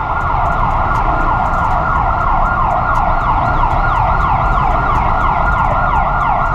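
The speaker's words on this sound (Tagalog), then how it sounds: "may ambulansya sorry maingay ah" A loud ambulance siren wails continuously nearby, its rising and falling tone sweeping steadily over the roar of traffic.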